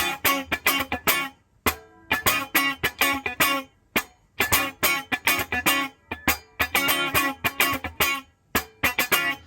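Choppy funk guitar strumming in a tight repeating rhythm, with percussive muted scratch upstrokes between bright chord stabs, played alone and up close.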